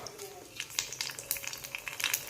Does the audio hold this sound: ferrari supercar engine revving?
no